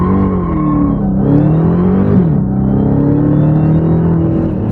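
Dodge Charger Hellcat in sport mode roaring hard from a standstill in a 0 to 60 run, a loud, sustained engine drone with rising and dipping pitch as it struggles for traction and shifts gears.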